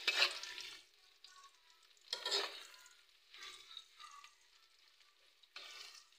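Garlic and onion sizzle in hot oil in a pan, hissing in separate bursts as they are stirred, with quieter frying in between.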